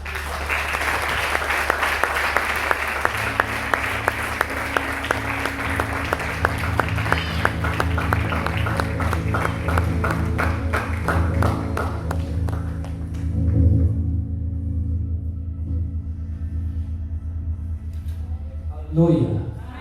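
An audience at a lecture by a doctor applauds again after a pastor is thanked, loud sustained clapping with a few rhythmic claps standing out, mixed with sustained music, then tapering off as the clapping fades.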